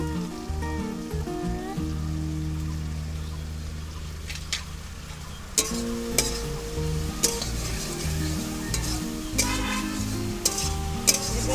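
Stir-frying with turmeric in a pan for a bata fish and loti curry, a soft sizzle broken by repeated scraping stirs, partly masked by steady background music.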